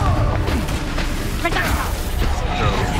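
A Confringo fire spell bursts in the video game Hogwarts Legacy, a loud booming blast with whooshing crackle amid ongoing combat noise and a voice shouting over it.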